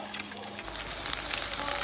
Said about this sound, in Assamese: আদা নহৰু দিয়াৰ পিছত গন্ধ নোযোৱালৈকে ভালকৈ ভাজি লৈ আছোঁ